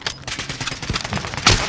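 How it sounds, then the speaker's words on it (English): Video game gunfire crackles in a dense, continuous burst of rapid shots over about two seconds, with a louder, sharper volley near the end and no talk. "Target appears hostile. Target located. Taking fire!"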